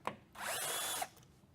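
A power drill backs the last screws out of a panel in one short, quiet whir that starts and stops abruptly, heard alone.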